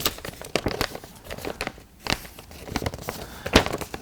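Paper crinkles and rustles in short bursts as a question slip is pulled from a pile, the crackly handling noises close and fairly quiet with no talking.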